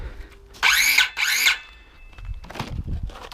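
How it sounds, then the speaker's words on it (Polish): A cordless battery-powered saw cuts into wood in two loud, close bursts of whining, high-pitched motor buzz, followed by quieter clattering and handling noise. "się włączyłem, żeby Wam pokazać jak to idzie tą piłą"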